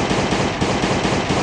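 Rapid automatic gunfire from the survival video game Last Day On Earth, a loud, continuous burst of shots with no speech.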